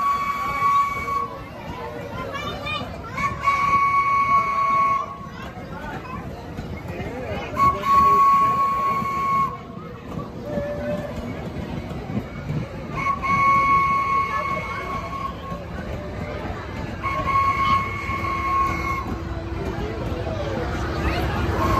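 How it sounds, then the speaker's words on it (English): A Thomas the Tank Engine excursion train at a Day Out with Thomas event in Perris, California rumbles along while its steam whistle sounds repeatedly in short blasts, with people talking and crowd noise around it. "Thomas! It's been fun riding on you, Thomas!"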